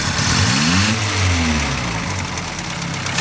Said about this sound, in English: Rev it up, sweetie!